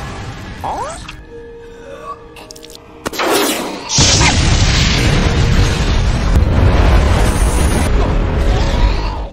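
A loud booming explosion aboard a ship erupts partway through, followed by a sustained roaring rumble that fills the rest of the clip.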